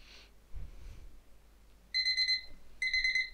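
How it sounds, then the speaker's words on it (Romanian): A timer alarm rings in two loud bursts of rapid electronic beeping, the first lasting about half a second and the second starting shortly after, over faint background noise. "Da, ignorați, asta e timerul meu."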